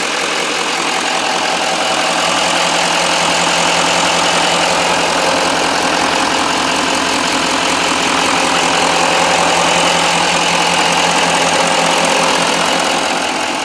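A 2013 Chevy 2500HD Duramax diesel pickup with stock exhaust and intake idles loudly and steadily up close, with a constant rough clatter and no voices.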